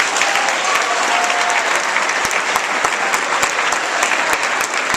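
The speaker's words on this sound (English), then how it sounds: "Guys, let's have another round of applause for the champ." A school assembly crowd gives a boxing champion a loud, sustained round of applause, with sharp individual claps standing out from the dense wash.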